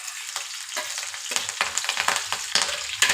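Green chillies and curry leaves spit and sizzle in hot oil seasoned with mustard seeds and cumin, a close, crackling fry with sharp bursts and stirring scrapes, no voices.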